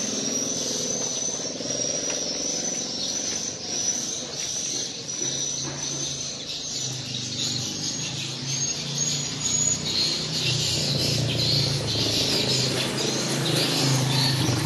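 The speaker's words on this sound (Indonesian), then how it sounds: "Wow, suara burung walet kedengaran banget ini." Swiftlets calling in a traditional market lane, a constant thin high chirping chorus over the lane's steady ambient noise, continuous and moderately loud.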